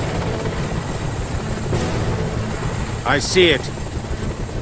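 Three helicopters flying in formation toward a headquarters, a steady rotor drone underneath while people talk over radio.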